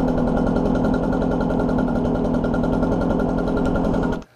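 An ECHO PB-770T backpack leaf blower's two-stroke engine idling close by, a steady buzzy putter with a fine rapid pulse, then cutting off abruptly near the end.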